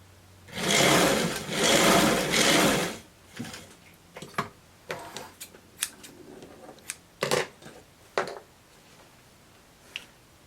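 A sewing machine stitches the seam of a dress in a loud, fast whirring run of about two seconds, followed by scattered clicks, snips and handling taps of fabric work, with no talking.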